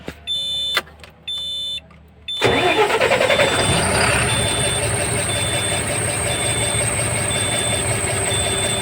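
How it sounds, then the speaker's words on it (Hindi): A Tata BS6 truck engine cranks and catches after a few short electronic beeps and chimes, then settles into a steady, loud idle that continues to the end. "और गाड़ी को स्टार्ट भी कर लेते हैं।"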